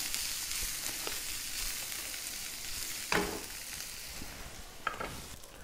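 Shrimp cooking Mexican style with chili vinegar broth in a pan, a steady soft sizzle running throughout with a couple of sharp utensil clinks standing out near the middle and end.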